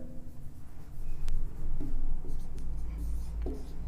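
Pen or marker writing out a coordinate geometry answer in a math lesson, a steady scratchy stroke sound lasting several seconds, fairly close with short pauses between strokes, no one speaking over it.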